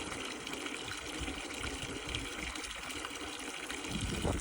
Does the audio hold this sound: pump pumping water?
yes